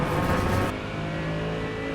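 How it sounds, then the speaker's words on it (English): A Mercedes race car engine drones steadily on a lap of Watkins Glen, a loud, continuous mechanical roar that eases slightly in brightness partway through, with no voices. "Lovely sound of the Merc."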